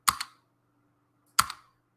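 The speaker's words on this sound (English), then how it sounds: "Just going to press enter twice on your keyboard." Enter key pressed twice on a computer keyboard, two sharp separate clacks about a second and a half apart, close and clear in a quiet room.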